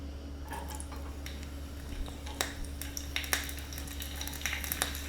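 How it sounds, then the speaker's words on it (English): Quiet, crackling sizzle of a quick crisp fry in hot extra virgin olive oil for a beet soup garnish, with scattered sharp pops over a low steady hum, no talking. "I'm going to put some extra virgin olive oil in here, heat it up, And I just thought I would sort of quick crisp fry these."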